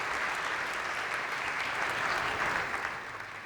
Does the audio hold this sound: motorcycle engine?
no